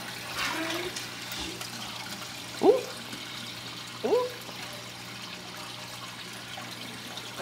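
Liquid is poured into a container indoors with a soft, continuous trickling splash, and two brief louder gurgles stand out near the middle at close range.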